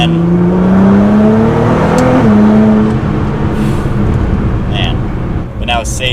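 A tuned Nissan GT-R pulls hard at almost full throttle, its engine note climbing steadily and loud up close, while a person talks over the roar.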